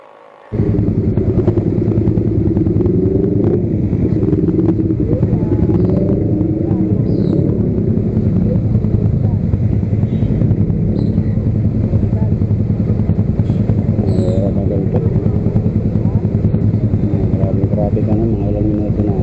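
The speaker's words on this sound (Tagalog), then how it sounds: "Sa gantong oras kasi matraffic na talaga, alas 9." Heavy morning street traffic on Marcos Alvarez, with motorcycles and other vehicles rumbling steadily and loudly close by, a continuous engine drone that never lets up.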